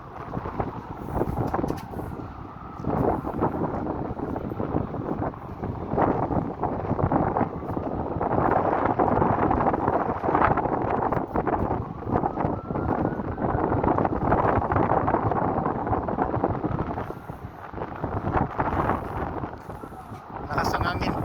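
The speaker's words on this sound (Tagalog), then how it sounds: "Lakas ang hangin." Loud, steady wind buffets the microphone on the Empire State Building in New York City, a continuous roaring rush, surging slightly throughout and never letting up.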